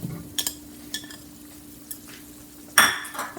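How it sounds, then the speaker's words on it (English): Potatoes added to a pot of meat for meatballs, a few sharp clinks and knocks of a utensil against the pot, then a louder clatter near the end, close with no talking. "So now we're gonna add the potatoes."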